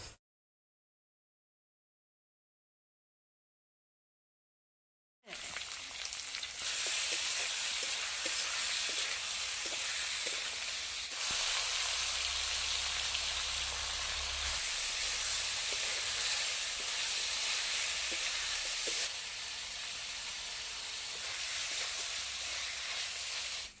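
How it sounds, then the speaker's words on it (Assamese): Crushed garlic and ginger fry in oil while pork with bhut jolokia chili is cooked, giving a loud, steady, continuous sizzling hiss that starts abruptly after several seconds of silence and runs on without a break. "ইয়াতে ৰহুন আৰু আদা আছে য'ত বটি লৈছোঁ সেইখিনি দি দিলোঁ এইখিনি অলপ ফ্ৰাই হৈ লওক ভালকৈ"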